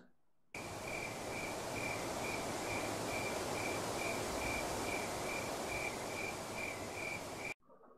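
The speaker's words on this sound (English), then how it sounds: "No, still crickets." A constant chorus of crickets chirps in a steady pulsing trill over a dense insect hum, starting and stopping abruptly.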